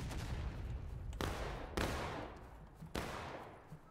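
Musket volleys crack out in the Civil War video game Ghosts of Antietam, a continuous ragged fusillade with three sharp loud onsets rising above sustained rolling gunfire at close range.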